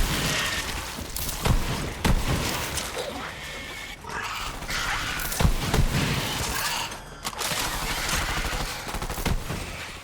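Redundant Fiebert legendary shotgun firing in Borderlands 3: loud, repeated booming blasts in quick bursts with short pauses, over busy game noise and effects.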